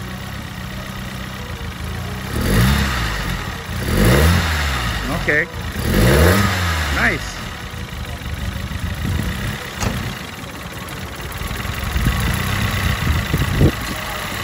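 Turbocharged Toyota 5A engine in a fabrication garage, idling and then revved in several rising-and-falling bursts, loud and close, with people talking briefly around it.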